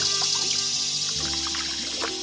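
Creek water flowing steadily around a kayak on a Florida river backwater, a soft continuous trickle and wash heard up close with no talking.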